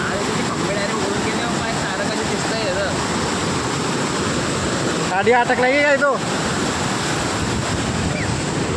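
Floodwater of a swollen river near farm fields rushes past in a constant broad roar, while someone talks over it briefly partway through.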